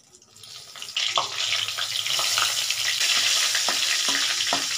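Whole spices and dry red chillies dropped into hot oil in a Bengali home kitchen, a sudden sizzle that swells into steady loud frying with light stirring scrapes, close up and alone.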